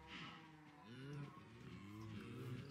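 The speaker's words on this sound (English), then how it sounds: "Cows, if you don't be quiet, I'm gonna have to slaughter you." Cows mooing in the video game Minecraft, a string of low drawn-out moos overlapping one another at moderate loudness with no talking.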